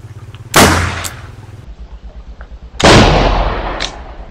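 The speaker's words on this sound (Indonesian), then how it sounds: "Seperti itulah suara Mercon Spiritus Legend." A homemade methylated-spirit firecracker fired from a jumbo tube gives two loud, sharp booms about two seconds apart, each tailing off into a rumbling echo over a low background hum.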